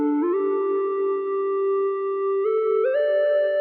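Omnisphere sine lead synth with its triangle layer switched off, a soft pure tone that glides up in pitch, holds, then steps higher twice near the end, steady and alone.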